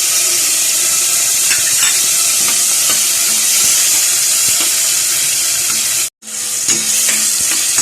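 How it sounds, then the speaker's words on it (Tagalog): Miso sautéing in a pan with garlic, onion and tomato for sinigang sa miso, making a loud continuous sizzle and hiss with scraping stirs, close up, briefly cut off near the end before resuming. "Isigisa natin yung miso."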